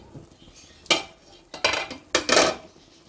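A cooking pot lid lifts off a simmering shrimp and drumstick curry with a few close metallic clinks and scrapes in quick succession, in a quiet kitchen with no talking.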